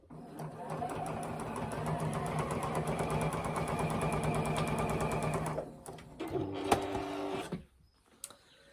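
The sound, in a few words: sewing machine stitching quilt binding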